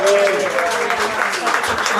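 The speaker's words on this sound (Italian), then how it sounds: "Complimenti, un applauso." An audience bursts into sustained applause at an evening event in a kitchen, many hands clapping densely and close for about two seconds.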